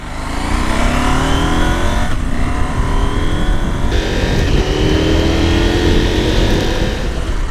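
A KTM 790R adventure motorcycle accelerates hard on the road, its engine loud and close, climbing through revs with quick gear shifts that break the rising pitch into repeated sweeps.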